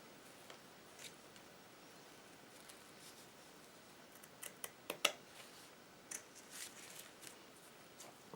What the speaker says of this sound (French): Maintenant, je vais pouvoir couper l'excédent.